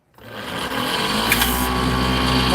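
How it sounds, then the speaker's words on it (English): A power sander starts up and runs at a steady, high-pitched whine, sanding a wooden piece with 120-grit paper close by, with no talking. "Now we're going to go over this and sand it. Just some 120."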